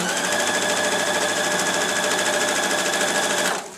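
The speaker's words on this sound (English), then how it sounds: "when you've finished your row of stitches" A sewing machine runs continuously with a rapid, even mechanical chatter while stitching a zippered, lined tote bag, close and steady, stopping abruptly at the end.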